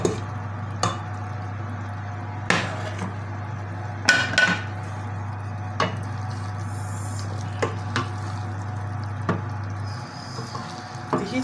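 A spoon stirs and mixes sauce for homemade baby food in a pot, giving scattered scraping clinks and soft taps over a steady low hum, with no talking.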